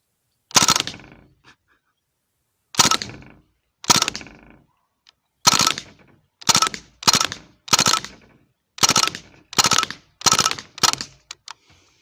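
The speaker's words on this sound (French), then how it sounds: "On va se faire quelques petites rafales." Short full-auto bursts from a Crosman AK-1 airsoft rifle, about ten sharp rattling volleys spaced by brief pauses, loud and close with no talking.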